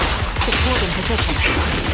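Gunfire in the Zenless Zone Zero video game, a dense rapid burst of shots and impacts layered with game effects and music, running continuously for the short stretch.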